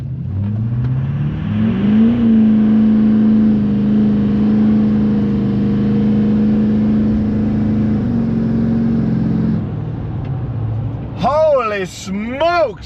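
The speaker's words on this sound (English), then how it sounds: "we're gonna do one wide open throttle pull" An LML Duramax diesel truck with a 5-inch straight pipe exhaust at wide open throttle, a loud, deep droning roar that climbs steadily in pitch for about ten seconds before easing off, followed by brief tire squeal.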